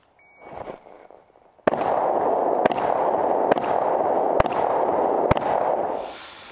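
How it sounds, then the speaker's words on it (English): A self-defense shotgun firing Remington Express buckshot outdoors, five sharp reports spaced about a second apart over a steady broadband roar, with no voices. "We were shooting Remington Express buck"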